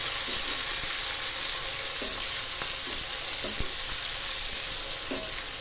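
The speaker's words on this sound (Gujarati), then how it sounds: "ટામેટા એડ કરીએ મરચાં પણ એડ કરીએ ધીમે ધીમે સાંતળતા જઈએ" Tomatoes and chillies being sautéed in a pan for kanda poha give a steady, close hiss of frying, with soft spoon stirs and scrapes every second or so and no voice.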